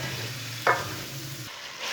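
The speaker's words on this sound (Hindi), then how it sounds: "अच्छी तरह मिक्स करके इसे भी 2 मिनट तक भून लेंगे" Washed lentils being stirred and fried in a pan for chicken dal, a low continuous sizzle with a brief scraping stir partway through, no voices.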